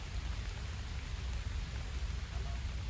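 Steady, dense rain pours down on a village in a constant hiss with a low rumble underneath, unbroken for the whole stretch.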